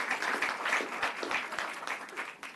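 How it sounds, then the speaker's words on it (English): Applause from the audience at a township council meeting in Franklin Township, Somerset County, a steady patter of many hands clapping, moderately loud and continuous before fading slightly toward the end. "Applause, please."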